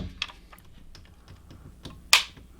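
Trigger on a Century Arms Draco AK pistol being pulled and reset, giving a few faint mechanical clicks followed by one sharp, louder snap near the end, with no talking.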